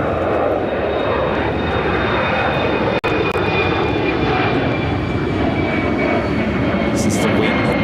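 A Boeing 787-8 Dreamliner on approach to Chicago O'Hare gives a loud, steady engine roar that holds constant throughout, with a faint voice in the background.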